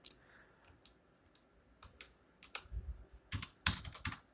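Computer keyboard keystrokes and mouse clicks while working in Busy accounting software, close and fairly quiet, arriving as scattered taps early on and then a quicker cluster of sharper clicks toward the end, with no talking.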